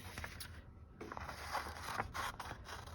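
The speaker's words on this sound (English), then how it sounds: "we're gonna cut it out. So I'll get my scissors." Scissors snip and scrape through paper in short, quiet bursts, with soft rustling between cuts, close up but faint.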